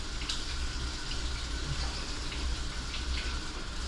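Tap water runs steadily into a basin during a morning face wash with face wash, a continuous close splashing gush with no voices.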